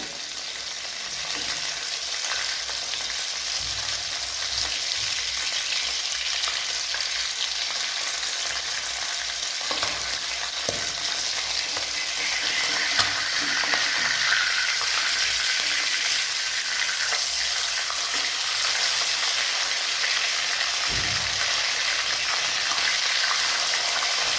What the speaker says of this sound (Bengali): এবার এগুলো উল্টে দিয়ে আরেক পিঠ ভালো করে ভেজে নেব।